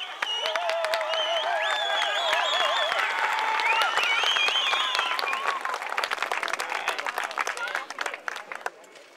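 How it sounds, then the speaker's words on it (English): A big audience at the 2007 World Pony Championship driving event in Austria claps and cheers steadily for a pony driving competitor at an obstacle, with a voice talking over the applause as it gradually thins out. "The big audience was quick to cheer on Peter Cooks, both while going through the obstacle and afterwards."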